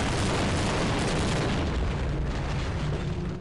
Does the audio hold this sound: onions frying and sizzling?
no